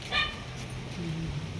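A dog gives a short bark followed by soft whimpering whines, close by over a continuous low background rumble.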